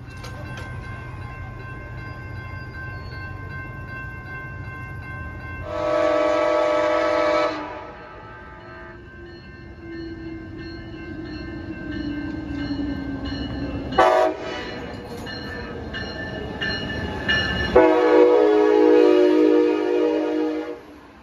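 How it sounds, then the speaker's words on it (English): A train arrives at a station in Saint Joseph, Michigan, after a bridge alarm, with two loud horn blasts separated by rumbling railcars rolling past nearby, a final long horn at the end. "So I think the train should be here any minute."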